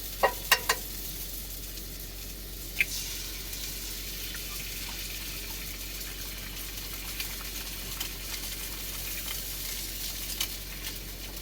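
Eggs frying in a pan give a continuous soft sizzle, faint and steady, with a few small clicks and taps near the start.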